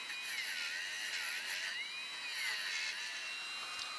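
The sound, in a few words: Dremel tool with stainless steel wire brush cleaning distributor cap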